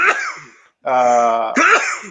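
A loud sneeze bursts out, followed by a drawn-out nasal vocal groan and a short exhale, close and alone.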